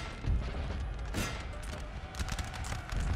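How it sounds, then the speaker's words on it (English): Howitzer artillery barrage in the strategy game Napoleon Total War, a dense battlefield din of muffled booms and crackling volleys with sharp bursts, loud and continuous. "get my howitzer units to barrage"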